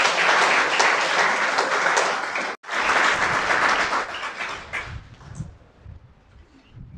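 An audience at a Kannada literary talk on poetry and books breaks into sustained applause, steady massed clapping that briefly cuts out, resumes, then thins and fades away toward the end.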